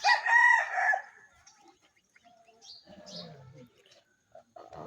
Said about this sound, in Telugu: ఇక్కడ ఉన్నది కోడి మాదే.